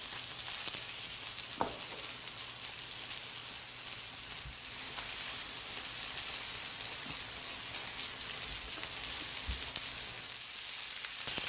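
Lamb chops sear steadily in a hot pan, giving a continuous close sizzle and crackle with a few louder pops and no talking.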